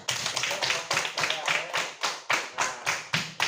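Classroom clapping during a lesson, about a dozen loud, sharp claps in a steady rhythm from a small group of pupils, close by, with faint voices underneath.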